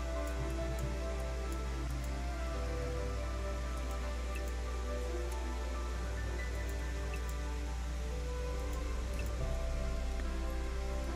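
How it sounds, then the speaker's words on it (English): Steady rain falls in the Final Fantasy Brave Exvius game, an even, continuous hiss of drops with a low ambient hum beneath, uninterrupted for the whole stretch. "Rain."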